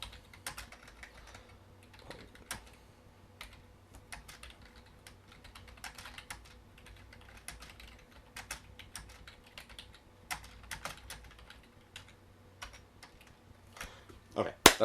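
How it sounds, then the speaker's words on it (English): Rapid, irregular key clicks from typing on a keyboard connected to a Samsung Smart Dock, close and fairly quiet, with a louder clatter at the very end. "You can press escape and it'll get rid of it, and you can type away."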